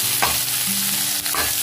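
Red pumpkin pieces hit hot oil seasoned with green chilli, curry leaves and asafoetida, bringing a loud, close sizzle with spoon-stirring scrapes in short bursts. The frying runs steadily underneath and no one talks.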